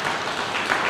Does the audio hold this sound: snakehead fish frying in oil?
no